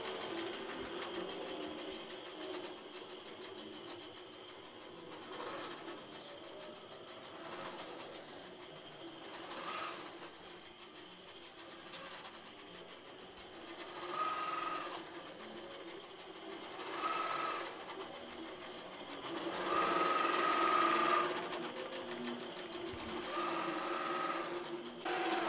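An INNOVA longarm quilting machine stitching an edge-to-edge pattern gives a steady mechanical hum with rapid rhythmic needle stitching, swelling louder at times and easing off again, continuous for the whole stretch with no voices.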